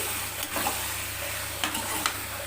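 Onion, tomato and garlic sautéing in a pan for a ridge gourd chutney, a faint, even sizzle with a few light stirring taps.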